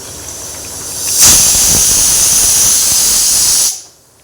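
A pressure cooker on a gas stove blasts a loud, steady jet of hissing steam that starts abruptly, holds for a couple of seconds and then cuts off, with no voices.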